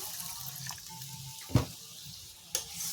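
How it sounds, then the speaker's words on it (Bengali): Water poured onto spiny gourd pieces in a pan, a brief splashing gush over a faint background hiss, followed by a second small splash. "দেখুন এর মধ্যে একটু জল এড করে দিয়ে দিচ্ছি"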